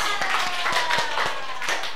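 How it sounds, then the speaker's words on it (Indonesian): A classroom group claps together, a brisk run of hand claps at a steady pace, fairly close and moderately loud, with no talking over it. "Tepuk tangan untuk kita semua."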